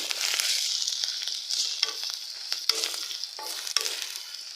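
Chopped potatoes and ginger fry in a pan with a soft, fairly quiet sizzle, broken by several sharp clicks and scrapes from stirring.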